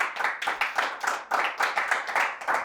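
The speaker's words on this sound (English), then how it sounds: "Stop clapping." Studio audience clapping in a strong, regular rhythm, about four claps per second, loud and close, with no talk over it.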